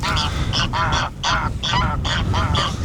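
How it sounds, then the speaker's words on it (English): Agitated geese honk loudly and repeatedly at close range, their harsh calls arriving in rapid overlapping bursts with no pauses. "oh, look at these geese."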